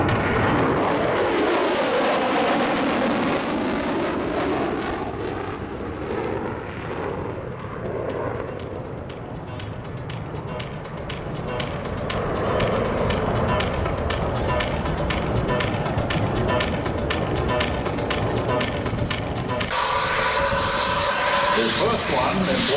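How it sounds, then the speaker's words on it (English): A B-1B Lancer bomber makes a fast low pass at about 500 knots at an air show, a loud, rough jet roar that swells and rumbles, then sweeps past before a sudden change near the end. "To your right, we have inbound, lickety-split, going very quick across the field, the B-1B Lancer."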